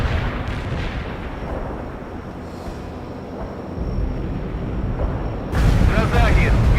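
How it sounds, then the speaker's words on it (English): Carpet bombing run in the strategy game World in Conflict: continuous rumbling explosions roll under a dense low roar, then a louder, closer burst of blasts and crackling debris arrives near the end. "Carpet bombing requested. Stay clear of the area."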